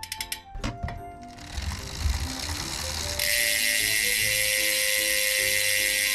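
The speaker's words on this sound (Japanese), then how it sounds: "みんな大好きこのラチェット音ですね。" Freehub ratchet of a Fulcrum Racing 3 wheel on a 2009 road bike with SRAM Rival components, a rapid buzzing click run loud and close as the wheel spins, settling into a steady whirring rattle.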